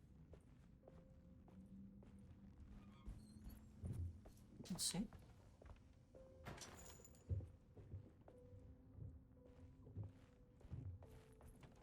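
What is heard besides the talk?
footsteps in the video game Alone in the Dark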